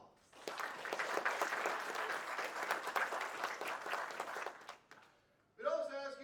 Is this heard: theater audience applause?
yes